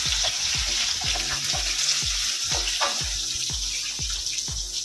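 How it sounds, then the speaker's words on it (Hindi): Chopped onion fries in a pan with a continuous hiss, punctuated by a regular series of soft knocking stirs or taps, close and even throughout. "इसको भी हल्का सा फ्राई करेंगे"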